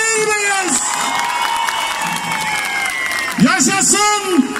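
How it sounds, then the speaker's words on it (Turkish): A crowd at a Turkish Republic 100th anniversary celebration in Ardanuç cheers, whoops and claps for Atatürk, with children shouting and an amplified voice speaking over the noise, the cheering surging again near the end. "En büyük alkışı Atatürk için alabilir miyiz?"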